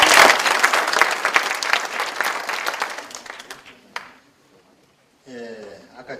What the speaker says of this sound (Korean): 자, 박수 한번 쳐주십시오.